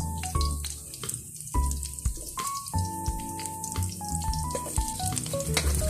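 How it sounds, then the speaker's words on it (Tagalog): Garlic and then onion sauté in a hot pan for a Filipino chicken dish, with a steady close sizzle and frying crackle under stirring clinks and a sustained tonal hum. "magsigigisa tayo ng bawang and haluin lang natin yan and isusunod natin yung sibuyas"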